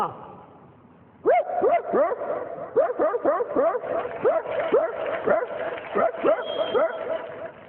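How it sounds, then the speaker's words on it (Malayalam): A rich household's dog gives a quick string of rhythmic barks and yips, close and steady for several seconds, with no voices on top. "അടുത്തൊരു പണക്കാരന്റെ വീട്ടിലെ പട്ടി."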